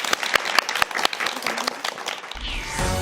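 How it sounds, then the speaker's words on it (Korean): Applause from a lecture audience, a crowd clapping steadily with sharp individual claps standing out, ending in a low rumble near the end. "여러분 큰 박수로 강연 청해 듣겠습니다."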